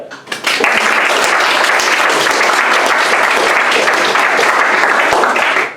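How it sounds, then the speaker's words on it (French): A comedy-show audience bursts into loud, dense applause that swells quickly and holds steady, close and full, with no talk over it. "j'aimerais que vous fassiez encore un tonnerre d'applaudissements à Omar qui vient de passer."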